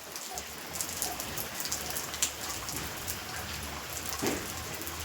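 Rain falls steadily with a constant hiss and scattered louder drips and splashes close by, no voices present.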